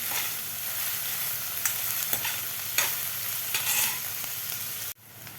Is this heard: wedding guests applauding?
no